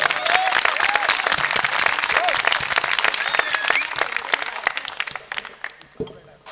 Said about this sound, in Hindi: आप सब लोग एक बार अपने लिए जोरदार तालियां जरूर बजाएं